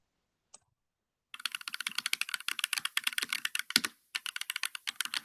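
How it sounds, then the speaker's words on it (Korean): Typewriter typing sound effect from a Canva animation: rapid, steady key clicks that start after a single early tap, pause briefly near the end, then resume, with no voices. "타자기 소리가 나잖아요"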